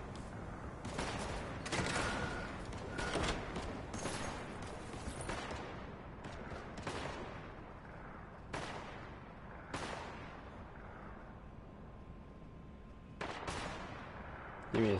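Video game gunfire during a sniper exchange: repeated sharp, loud shots fire at irregular intervals, some in quick clusters and others isolated, with a low hum between them.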